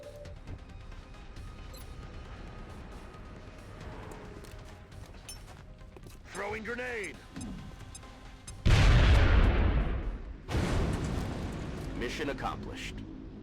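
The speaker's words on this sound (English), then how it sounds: "we'll throw a grenade with Adam to weaken the sectoid, and then we throw another one with Resilius" Grenades explode in the turn-based tactics game XCOM: Enemy Within, thrown to weaken and then kill a sectoid alien. A heavy, booming blast is followed by a second, shorter burst, with game effects and a voice beneath them.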